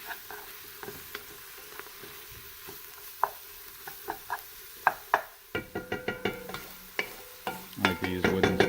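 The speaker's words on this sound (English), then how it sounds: "so just keep stirring that up" Vegetables for a sauce are stirred in a frying pan with a wooden spoon: soft sizzling underneath a run of irregular knocks and scrapes that grow quicker and denser toward the end, close and clear with no talking.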